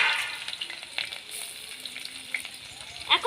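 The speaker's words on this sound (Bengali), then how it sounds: "এখন আমি তেলের মধ্যে দেব পেঁয়াজ কুচি, রসুন বাটা," Chopped onion with garlic and ginger paste frying in hot oil, a steady close sizzle with soft crackles and brief stirring scrapes, the quiet hiss holding throughout.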